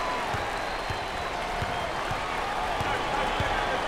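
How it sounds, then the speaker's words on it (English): Student section crowd at a Maryland versus Indiana NCAA college basketball game in 2023: a continuous, fairly distant arena roar with scattered applause and the regular thud of a dribbled ball, with a commentator talking over it. "Cheering on their classmates, their peers."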